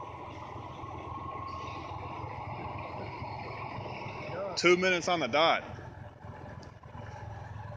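A tractor at a driving school in Sellersburg, Indiana runs with a steady, low engine drone under continuous talk, with a brief louder burst midway.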